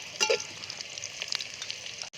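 Onions frying in a pan for a stuffed crab curry, giving a soft, steady sizzle with small crackling pops, close and fairly quiet.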